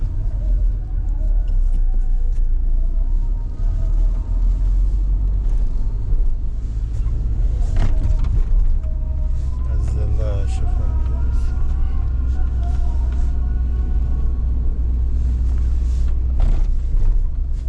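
A car with a damaged tire driving on the road, a steady heavy low rumble and rattling vibration throughout while someone talks over it.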